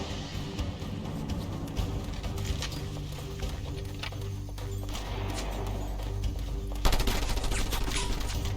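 Rapid machine gun fire in a video game, a continuous loud rattle of bursts with a heavier surge of shots toward the end.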